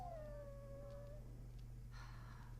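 A dog in the Dragon Age: Origins video game gives a drawn-out whimpering whine that slowly falls in pitch, quiet over a steady low hum, followed by a brief softer noise.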